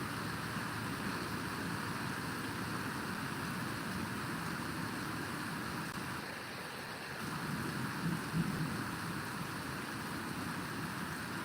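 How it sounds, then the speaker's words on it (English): Heavy rain falls during an approaching storm with hail, a steady, even hiss that continues without a break. The rain is fairly low in level and no one speaks over it. "Can y'all hear the rain noises?"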